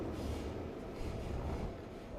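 A subway train pulls into Shibuya station in the Persona 5 Royal video game, giving a steady low rumble of rolling carriages throughout with no voices.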